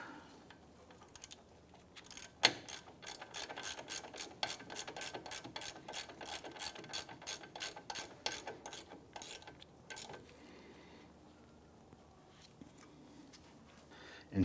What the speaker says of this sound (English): Then I'm just gonna throw a ratchet on there, snug that down.